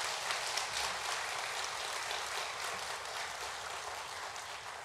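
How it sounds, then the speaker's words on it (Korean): A church congregation applauds to welcome new members during a Sunday service, a steady, dense wash of clapping from many hands that holds evenly for several seconds, heard from a slight distance. "우리 여기 앞에 계신데 우리 박수로 환영하겠습니다"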